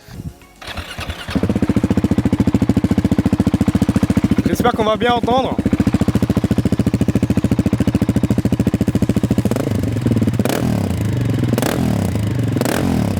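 A KTM 690 SMC R motorcycle engine cranks and fires up, settling into a loud, steady, close idle with a few revs, while someone speaks briefly over it.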